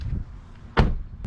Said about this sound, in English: Hood release is immediately to the left when you open the driver's door.